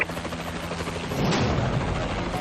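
An allied Warbird aircraft in Call of Duty: Advanced Warfare passes overhead with a steady, loud rotor-like whir and rumble, swelling midway, amid distant gunfire in the game.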